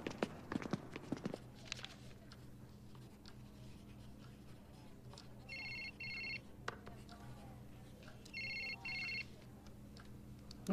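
A telephone rings in two short electronic bursts a few seconds apart, at moderate volume in a quiet room. Faint knocks and movement are heard between the rings. The scene is from a 2008 Italian-dubbed cheerleader film.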